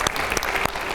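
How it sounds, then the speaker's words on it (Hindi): Audience applause for a group of campaign heroes at a televised public event, a dense, steady wash of clapping filling the whole moment at full volume. "मोदी जी के सुपर हीरोज के लिए जोर से ताली बजाए एक बार सर"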